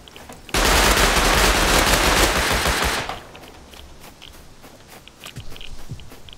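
Dense, loud gunfire rattles nonstop for about two and a half seconds in the Rust Battle Royale video game, then drops to quieter scattered shots and faint movement sounds.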